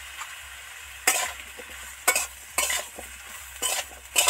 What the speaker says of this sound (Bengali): সবজিতে একটু নুন ছড়া দিয়ে ভালো করে কষতেই থাকবো,